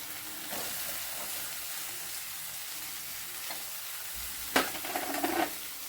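Carrots and other chopped vegetables stir-fried in a pan for vegetable soup: a steady, close sizzle with soft scraping stirs, and a louder clatter-and-scrape burst near the end.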